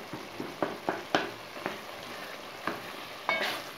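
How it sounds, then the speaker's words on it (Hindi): Kachnar chicken is bhuna-fried in a pan with oil, a quiet steady sizzle broken by sharp scraping stirs of the spoon against the pan at irregular intervals. "इसको अच्छे तरीके से भून लेंगे।"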